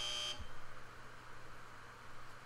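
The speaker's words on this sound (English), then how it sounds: "When you hear the buzzer, move to the right." A short electronic buzzer in the Evoland 2 video game sounds once at the start, a loud sustained tone that cuts off cleanly, followed by quiet game ambience.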